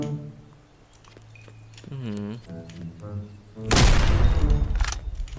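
Gunfire bursts out loudly in the Roblox battle game Rift Royale, a sudden dense volley in the last seconds. Tonal game sounds and a player's voice come before it.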